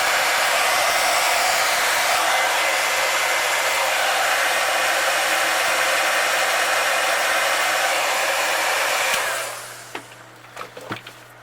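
Close, loud and steady, the blowing roar of a heat gun heat-sets paint on a fishing lure, then cuts off near the end, leaving a few light clicks and taps.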